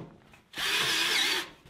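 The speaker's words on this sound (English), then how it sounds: "I like to do 4 screws in this situation so we have a really stable surface to screw into" A power drill drives a screw into a metal stud while building a tiny house wheel well, one close, steady high whine lasting about a second, starting and stopping abruptly against a quiet background.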